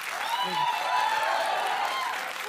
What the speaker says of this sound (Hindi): ताली बजाइए भाई इनके लिए